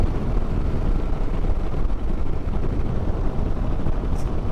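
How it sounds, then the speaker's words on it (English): Steady, loud wind roar buffets a Harley-Davidson Low Rider ST motorcycle at speed, a dense broadband rush with no pauses or talk. "I feel like I got a headwind right now."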